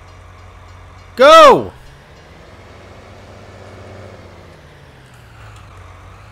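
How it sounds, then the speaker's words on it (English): A train passes a level crossing in Farming Simulator 19: a loud horn blast sounds briefly over a steady low rumble, and a voice calls out once. "Gotta wait for the train."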